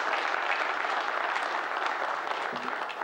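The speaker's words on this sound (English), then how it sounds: "Council, can we give her a round of applause for her great service in honoring her and her family?" Steady, moderately distant applause fills a council meeting chamber, a continuous wash of many hands clapping without pause.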